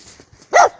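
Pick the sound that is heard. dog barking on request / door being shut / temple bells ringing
dog barking on request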